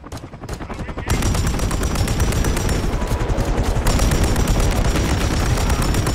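Sustained rapid gunfire in the video game Modern Warfare III, dense automatic bursts kicking in loudly after a brief quieter start and continuing without pause.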